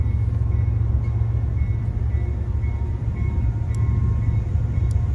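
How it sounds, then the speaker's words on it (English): A train rumbles past behind a river, a loud, continuous low roar with steady rolling drone and faint high squeals, filling the scene with no talk. "there's a train behind me, so we're going to be a little bit louder now"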